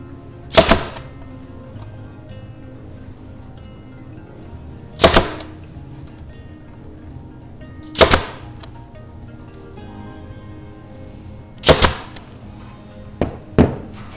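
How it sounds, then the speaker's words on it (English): Staple gun firing into wood while a bat house is being built: five sharp, loud snaps spaced several seconds apart, the last two close together, over a quiet room. "Now I'm going to staple this."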